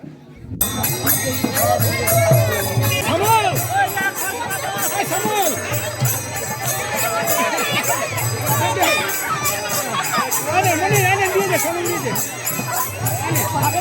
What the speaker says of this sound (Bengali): কত ভিড় পুরো গ্রাম এখানে চলে এসছে